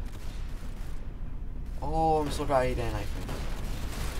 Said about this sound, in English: Who is making these explosions, bro?